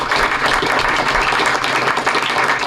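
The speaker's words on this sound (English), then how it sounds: "I want to give him a round of applause." Audience applause at a township board meeting, a steady wash of many hands clapping together throughout, dense and sustained with no break, filling the room at close range.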